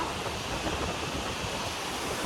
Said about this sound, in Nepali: वाउ, कस्तो दामी हावा आएको।